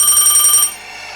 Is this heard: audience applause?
no